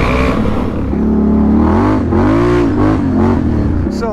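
An ATV four-wheeler engine on a trail at Snake Creek and Trout Valley, revving loud and close, its pitch climbing and falling in several quick surges.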